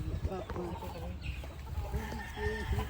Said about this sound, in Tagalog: Ito nakita ko manok.